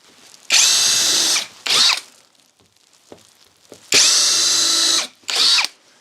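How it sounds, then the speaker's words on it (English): A power drill bores pre-drilled holes into wooden bed frame boards. There are two long, loud high-pitched whirring runs, and each one is followed by a shorter burst, with quiet gaps in between. "flip it around to the other end and do 2 more pre-drill holes down here"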